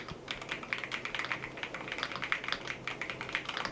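A G-Rule hi-fi sound switch keyboard typed on deliberately softly, giving a fast, even patter of muted, close keystrokes with nothing else audible.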